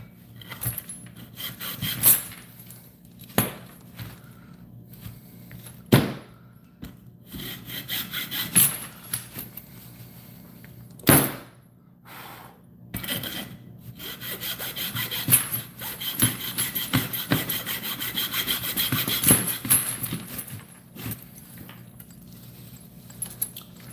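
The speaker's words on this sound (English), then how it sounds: "alright, we got it started with the cute saw" A Japanese-style pull saw cuts by hand through a wooden board, a rasping stroke-by-stroke rhythm close up that grows steadier and more continuous as the cut deepens, with a few sharp knocks along the way.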